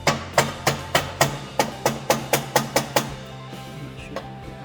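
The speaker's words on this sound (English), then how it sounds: "A few light taps with a wooden part of my hammer." The wooden part of a hammer gives light taps to a car exhaust being fitted to an old Alfa Romeo: about a dozen sharp, evenly spaced knocks in quick succession, close by, then a couple of fainter taps.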